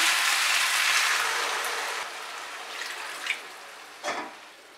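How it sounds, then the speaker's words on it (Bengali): Water poured into a hot pan where ginger and vegetables for a Bengali cucumber shukto were being fried, a loud rushing splash and hiss that steadily fades over several seconds, with a couple of brief later splashes. "এবার এর মধ্যে আমি জল অ্যাড করছি"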